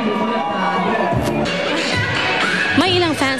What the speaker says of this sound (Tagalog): si Pacquiao, lalong lumakas ang hiyawan ng mga fans.